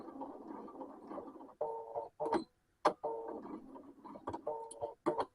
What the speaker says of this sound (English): I need to do a back stitch to in order to secure the stitching.